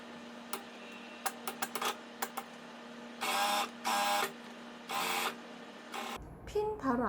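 A sewing machine sews a drawstring bag seam, starting with a few sharp clicks and then running in three steady bursts of stitching up close, with a steady hum beneath and a brief rustle at the end.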